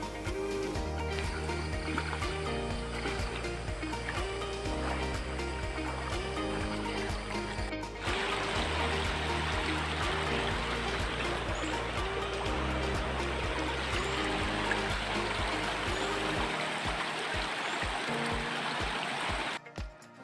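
A river rushes and burbles over rocks of different sizes in a steady, close wash of flowing water. A low rhythmic music bed plays beneath it, and the sound cuts off near the end.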